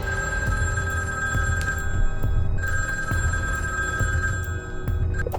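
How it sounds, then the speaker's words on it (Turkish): An electronic telephone bell rings insistently in the Referee Simulator mobile game, a bright repeating trill over a low steady hum that continues throughout with no talk. "Ama bir telefon daha geldi."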